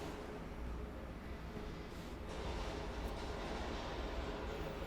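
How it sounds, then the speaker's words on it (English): Monorail train in the video game City of Heroes, a steady broadband rumble and rattle running continuously throughout, moderately loud and close with no talking. "I'll take the A train again. The A monorail."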